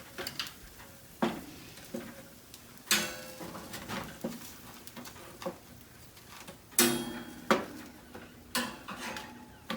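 Food being turned in a pan partway through cooking to crisp both sides, heard as a run of sharp metallic clanks and scrapes of utensil against cookware, scattered in irregular bursts with quieter handling noise between.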